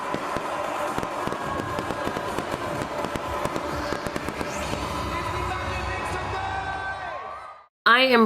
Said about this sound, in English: then ends with a spectacular display of fireworks at sea